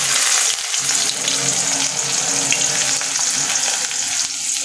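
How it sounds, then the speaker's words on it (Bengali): Chopped onions fry in hot spiced oil for a layer chicken bhuna, making a loud, dense and steady sizzle with faint stirring underneath, close to the pan and heard without speech. "পেঁয়াজটা লাল করে ভেজে নেব।"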